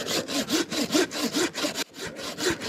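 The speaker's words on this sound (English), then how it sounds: "bone saw" Bone saw cutting through firewood, a close, loud rhythmic rasp of about nine quick back-and-forth strokes with a brief pause before a few more.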